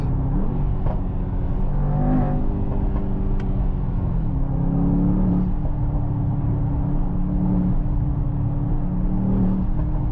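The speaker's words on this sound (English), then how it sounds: "If you let the throttle, you get the blow off noise." Mercedes-AMG GT 63 S E Performance hybrid on a drive, a steady low cabin rumble of the engine with brief rising and falling whirs and a few faint off-throttle hisses, no talking.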